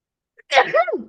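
A single sharp sneeze bursts out close by, a quick intake followed by a loud, explosive release that trails off.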